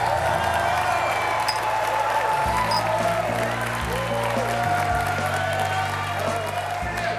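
A crowd applauds steadily and loudly at a Hell's Kitchen cooking competition, the clapping continuing throughout over a low droning background.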